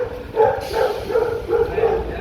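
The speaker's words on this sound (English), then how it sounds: "that's a lot of dog barking" Several dogs bark and yip in overlapping bursts at a moderate distance, mixed with a steady wash of street noise in the French Quarter of New Orleans, near North Rampart Street.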